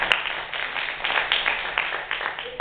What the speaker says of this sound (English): So let's give her a special clap there.